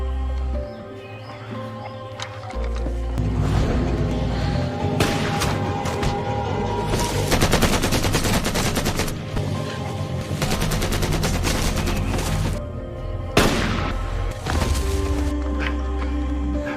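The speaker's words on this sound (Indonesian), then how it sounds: "pertempuran terjadi sangat sengit antara Thomas dan Jack yang mati-matian harus melawan pasukan khusus Serbia" Dense gunfire crackles through a fierce battle against Serbian special forces, rapid bursts and single shots layered over a low rumble, with a loud bang near the end.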